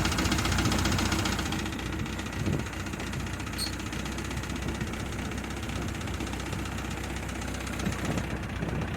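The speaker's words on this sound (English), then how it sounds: "Little throttle, little choke, and this will start right up." A 1951 Ford 8N tractor engine runs steadily at idle, a loud, close, rough rhythmic chugging with constant low rumble throughout, no voices.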